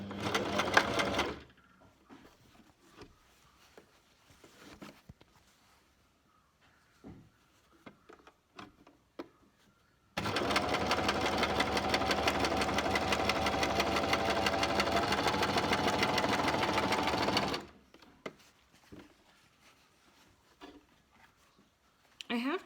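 A sewing machine stitches fabric for a face mask in one steady, loud whirring run of about seven seconds, with a shorter burst at the start and quiet handling clicks in between.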